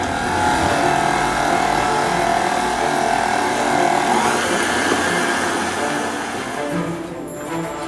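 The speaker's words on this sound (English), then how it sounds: "mix to incorporate that coffee into that cheese" Electric mixer whirring steadily as it blends coffee into no-bake mocha cheesecake batter, a continuous loud motor drone that eases off near the end.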